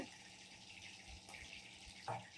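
Cut eggplant pieces being rinsed in water in a kitchen, a faint trickle and splash from a tap with a sharper slosh near the end, quiet and close.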